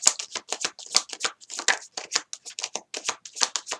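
Tarot cards being shuffled by hand, a rapid run of crisp riffling flicks close up that continues steadily for a few seconds with no talking.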